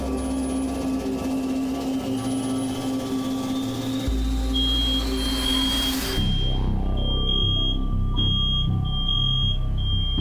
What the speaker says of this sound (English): Frickin' smoke detectors go off in my hallway for some reason